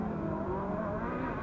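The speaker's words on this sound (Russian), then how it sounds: "Белая, вот эта Рено не хочет отставать. Включает полный газ и не останавливается на трассе." A white Renault autocross car at full throttle during an autocross championship race, its engine a loud, sustained roar close by, with other racing cars on the track and no talk.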